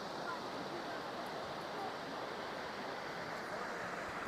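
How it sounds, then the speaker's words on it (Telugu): An artificial waterfall at Wadi Namar in Riyadh pours water down at night, making a steady, even rushing roar with no breaks across the whole stretch. "నైట్ టైం కాబట్టి వాటర్ సౌండ్ వినబడుతుంది."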